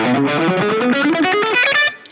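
A distorted electric guitar runs a quick major scale pattern, three notes per string, notes stepping evenly in a steady stream before cutting off near the end.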